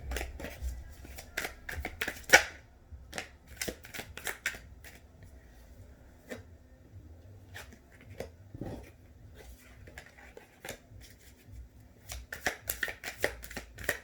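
Tarot cards are shuffled by hand in a quiet room, producing soft, close riffling and flicking bursts in irregular clusters, busiest at the start and end, with no talk.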